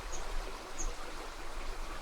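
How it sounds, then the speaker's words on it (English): A brook winds through Padley Gorge in the Peak District, giving a steady, soft broadband wash of running water throughout, with a couple of faint high bird chirps above it. "we've got the brook here as it winds its way through Padley Gorge"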